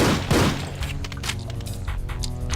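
A pistol in the video game Heretic, played with the Complex Doom mod, fires a rapid series of sharp cracks over loud game noise, with no talking.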